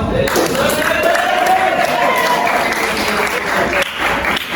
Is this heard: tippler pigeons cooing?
no